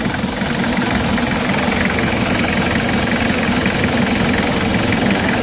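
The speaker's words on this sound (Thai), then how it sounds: "เรามาฟังเสียงเครื่องยนต์กันนะฮะเครื่องยนต์ก็ 5L นะฮะ เดิมๆเลย" A diesel van's stock 3.0-litre engine from a 2001 van idles steadily, a loud, even knocking rumble with slight vibration and no pauses or revving.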